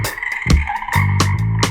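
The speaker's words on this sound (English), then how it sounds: "The reggae ribbit." Rainforest frogs croak loudly and close by in repeated deep ribbits, several calls overlapping in an uneven rhythm against a dense chorus of other frogs.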